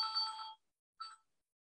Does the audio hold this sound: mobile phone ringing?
yes